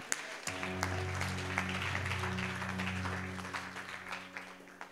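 A church congregation claps in a steady mass of hands, layered over a sustained organ or keyboard chord, filling the room at moderate level.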